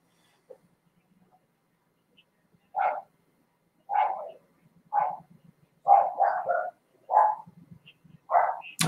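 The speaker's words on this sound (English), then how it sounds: "the useless dog is barking at people again" A dog barks repeatedly, about eight sharp, close barks at irregular intervals with brief quiet gaps between them, and no talking.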